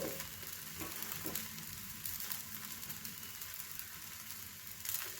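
A sprouted moong pancake (dhirde) sizzles and crackles softly as it roasts on a hot pan, a steady quiet frying hiss with occasional small pops.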